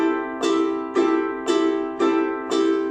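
Ukulele strummed with the thumb, the pad brushing down and the nail flicking up, five bright even strums about half a second apart with chords ringing between them.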